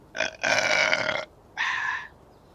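Two loud, close burps, a longer drawn-out one followed by a shorter one after a brief pause.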